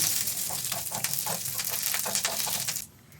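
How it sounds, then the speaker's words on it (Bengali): Garlic, dried and green chillies and curry leaves sizzle in hot ghee for a tadka, a steady close crackling hiss with small popping bursts that stops abruptly near the end. "রসুন, লঙ্কা, শুকনো লঙ্কা, কাঁচা লঙ্কা দুটোই আর কারি পাতা দিয়ে আবার ওপর থেকে একটু ঘি দিয়ে ভালো করে তড়কা লাগাবো"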